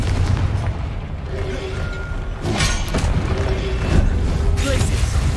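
Confringo fire spell blasts in Hogwarts Legacy, loud booming bursts over a dense, rumbling game mix of combat effects and background score, with a couple of sharper impacts standing out.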